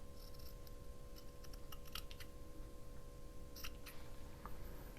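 Quiet snips of scissors trimming a fabric pennant flag for a cluster of pennant flags, a scattered series of small crisp cuts over a steady electrical hum.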